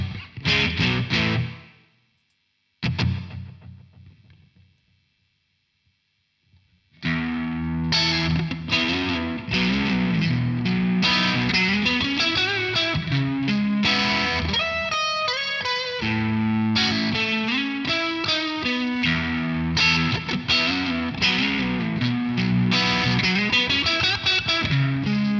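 An electric guitar plays through a Sonicake Levitate reverb and delay pedal. A few sparse notes ring out and decay into near silence, then a dense, continuous distorted passage follows with long reverb and delay tails.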